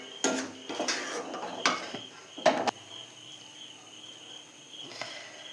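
Hot sesame and jaggery laddu mixture being poured from a metal pot onto an oiled plate, with several sharp clanks and scrapes of metal and a faint insect chirp behind.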